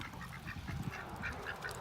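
Ducks near a backyard pool by a small hen house give short nasal quacks and honks in a loose run over a steady background hum, moderately close and not loud, with no talking.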